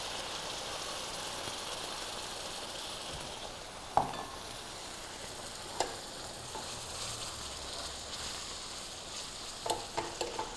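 Chicken browning in a pan sizzles steadily as tomato sauce is stirred in for chicken Florentine, with a few sharp spoon clacks against the pan scattered over the continuous frying hiss.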